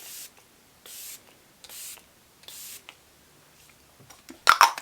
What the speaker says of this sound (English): I'm going to use the Tarte Double Duty Stay Spray